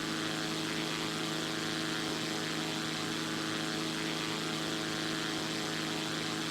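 Zlín Z-142 single-engine propeller aircraft in the X-Plane flight simulator, climbing to 2,500 feet: a steady, loud engine drone with a constant hum and airy wash, unchanging throughout with no talk.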